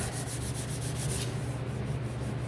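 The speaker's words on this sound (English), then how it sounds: "we are gonna wipe that dust off" Someone wipes sanding dust off the top coat of a wooden door hanger sign with quick, rhythmic rubbing strokes. The scrubbing is close and steady, then softens, with no voices.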